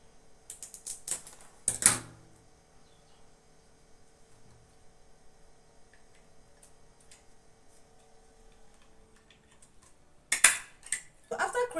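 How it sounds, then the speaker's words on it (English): A stapler snaps twice into a fascinator base, with a sharp clack early on and another near the end. Faint handling rustle fills the quiet stretch between them. "I'll go ahead and staple this again."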